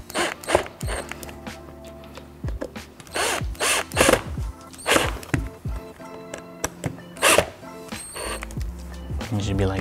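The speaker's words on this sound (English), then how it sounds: "get a drill with the Phillips tip, and you want to go slowly to attach it" A power drill with a Phillips tip drives screws in short, stop-and-start bursts with ratcheting mechanical clicks, attaching a rear diffuser on a Dodge Challenger, close by, while someone speaks faintly in the background.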